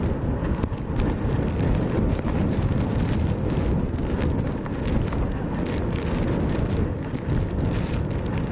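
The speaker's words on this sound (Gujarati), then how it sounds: "પવનના સૂસપાટા પણ સંભળાઈ રહ્યા છે." Strong cyclone winds of Cyclone Yaas roar across the open sea on the Odisha and West Bengal coast, a loud, steady buffeting rush that fills the whole clip with no let-up and no voices.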